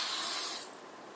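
A spray paint can hisses loudly for just over half a second, then the spray cuts off and leaves a faint lingering hiss.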